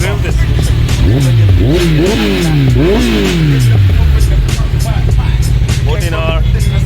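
BMW GS 450 motorcycle engine revved in a series of sharp rising and falling bursts, loud and close, with people talking around it.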